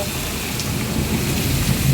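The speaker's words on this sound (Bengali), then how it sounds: "কীভাবে মেঘ ডাকছে" Low thunder rumbles beneath a steady downpour of heavy rain, the roar holding even from start to finish.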